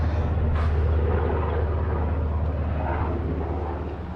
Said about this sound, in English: Got some helicopters.